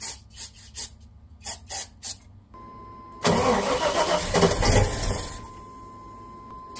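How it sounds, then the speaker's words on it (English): A 1989 Chevy S10 Cameo pickup revived after sitting, primed with a little brake cleaner, cranks with several short rhythmic bursts, then a steady tone, and catches into a loud, close, roaring idle that settles down. "I'm going to choke it, and I'm going to see if I can start it."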